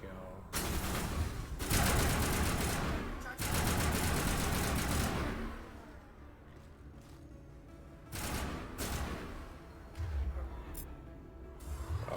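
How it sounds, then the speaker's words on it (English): Dense bursts of rapid gunfire and rocket blasts from the video game Mass Effect crackle in long loud volleys that pause and restart, with a voice talking over parts of the fighting. "they're shooting rockets at us now?"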